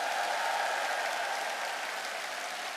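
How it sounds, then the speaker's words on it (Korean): A seminar audience at an Atomy business one-day event applauds together. The clapping is dense and continuous at moderate volume and tapers off slightly toward the end. "큰 박수 한번 부탁드리겠습니다."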